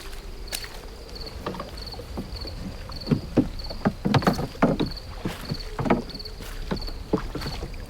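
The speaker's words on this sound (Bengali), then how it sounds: "ঘাটের বাঁ দিকের অন্ধকার থেকে হরিমাঝি একটা সরু কাঠের নৌকা ঠেলে আনলো" A narrow wooden rowboat pushed through river water at night, with irregular splashing and sloshing strokes close by over a steady background of insects and light wind.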